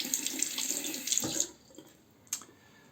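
A bathroom tap runs steadily as an adjustable razor is rinsed beneath it, a close splashing hiss that cuts off partway, followed by a brief clatter and a few quiet drips.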